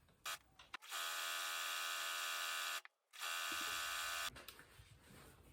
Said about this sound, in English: I'm going to start sewing these together